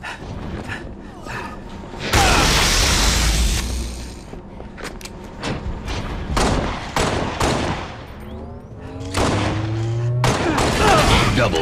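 Shotgun blasts in a zombie-killing video game ring out in rapid bursts and scattered single shots, loud and close, with announcer-style game voices calling out kills between them.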